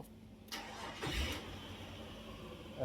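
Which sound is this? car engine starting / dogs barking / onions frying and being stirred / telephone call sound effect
car engine starting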